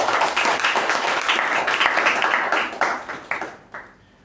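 Audience applause at a Toastmasters meeting, a dense round of clapping that holds steady before thinning into a few scattered final claps and fading out.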